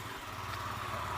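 Motorcycle engine idling or running nearby with a steady, loud rumble throughout, no talking over it.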